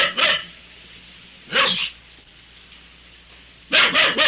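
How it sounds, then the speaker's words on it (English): A dog locked in a car on a New York street barks in three short bursts, each a quick double or triple bark, against a quiet low hum. "I listened to a doorman talking to a barking dog locked in a"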